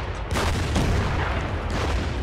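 Artillery barrage in a Burma Road war game: heavy booming blasts merge into a dense, continuous roll of gunfire, loud and close.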